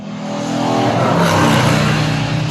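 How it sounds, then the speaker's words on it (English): Road traffic in a busy high-traffic area, a loud car passing close by that swells to a peak mid-way and then fades slightly, with a steady roar and no speech. "Sorry, kind of loud, guys. We're in a high traffic area."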